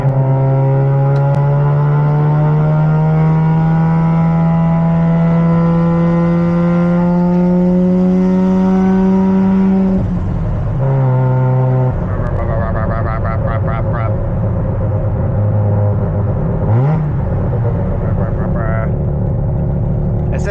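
A Mazda RX-7 FD with a turbocharged engine revs up loud and near, its tone climbing steadily for about ten seconds before dropping off and pulling again. Short turbo whooshes and chirps follow, with a voice heard over it.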